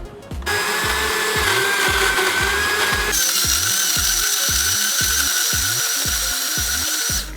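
A kitchen blender grinding tom yum spice paste loosened with oil, a loud steady whirring motor with a rhythmic chopping pulse, shifting to a higher pitch partway through, with no talking.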